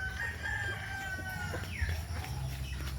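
A gamecock rooster crows on a farm, one clear drawn-out crow close by, with other fowl clucking and crowing softly in the background.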